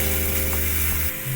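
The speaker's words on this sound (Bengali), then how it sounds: "এর মধ্যে আমি বাটির ধোয়া জলটা দিয়ে দিলাম" A sizzling pan of fried ginger and asafoetida paste as water is poured in, a continuous loud hiss and crackle over a low steady hum, ending with a quick change in tone.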